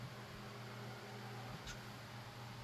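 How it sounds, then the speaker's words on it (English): Small electric fan running inside a Toyota Camry during interior detailing, a steady, faint whirring hum with a low drone, alone and unbroken. "sorry about the fan there"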